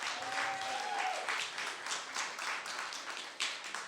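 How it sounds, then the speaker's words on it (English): An audience at a community climate forum applauds, a dense, steady round of many hands clapping together in an indoor hall, holding at an even level for several seconds. "Let's give her a massive round of applause."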